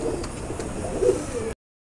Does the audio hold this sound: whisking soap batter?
no